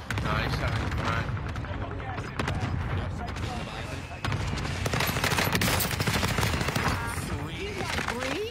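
A shooter video game fills with dense gunfire, with rapid bursts and overlapping shots cracking close and loud over a constant battle din, while players talk over it.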